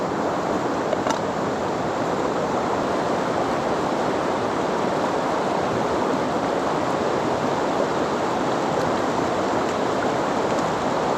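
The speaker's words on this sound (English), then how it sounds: "this is the river" A river in the New Zealand backcountry in winter flows steadily with a broad, even rush of water, continuous and fairly loud, with no voices over it.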